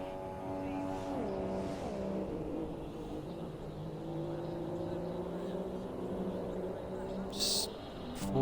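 Formula 1 cars in an F1 racing game at the Spanish Grand Prix, a steady high engine whine with shifting revs as one car chases a Mercedes, heard under continuous race commentary.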